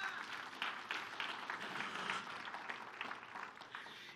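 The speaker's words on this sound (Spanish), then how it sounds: "De un aplauso al Señor," A church congregation claps together for the Lord during a pastor's sermon, giving dense, steady applause with loose rhythmic pulses that lasts the whole stretch at moderate loudness, with no talking.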